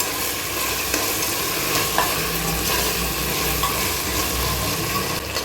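Ginger-garlic paste frying in a pot for a Bengali chicken curry, a loud, dense, even sizzle with faint stirring scrapes throughout and no talking.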